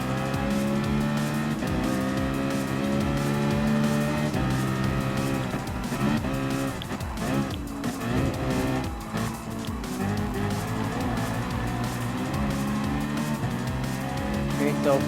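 A BMW M6 race car in Gran Turismo Sport racing against Group 3 cars, its engine roaring loudly and steadily with layered harmonic drone, tire noise mixed in, with a voice talking over it.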